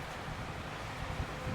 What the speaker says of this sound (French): Il y a beaucoup de vent, je sais pas si on va nous entendre.